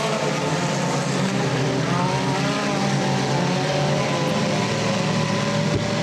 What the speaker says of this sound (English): Back up front. Alan Walker will lead lap number 1